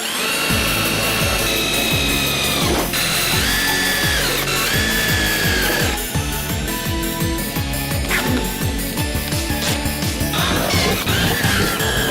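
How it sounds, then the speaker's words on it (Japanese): A power drill drives screws to temporarily fix a wide fender on a Honda CL7, loud whirring bursts that rise and fall in pitch as each screw runs in, with short pauses between. "そしたら一旦ビスを使って仮固定をしていきます。"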